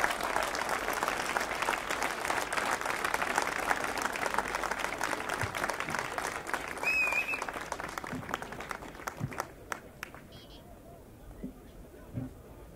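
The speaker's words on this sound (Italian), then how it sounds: "vi chiedo di accogliere con un grande applauso Maurizio Di Franco" A crowd applauds to welcome Maurizio Di Franco at a Brescia 5 Stelle citizens' event, steady clapping that thins out and fades into scattered claps and room murmur.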